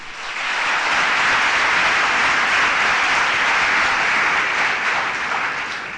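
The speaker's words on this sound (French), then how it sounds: "Je vous demande de l'applaudir, s'il vous plaît." Graduation ceremony crowd at the University of Djibouti applauding the president, a dense, loud roar of clapping that swells in, holds steady, and tapers slightly at the end.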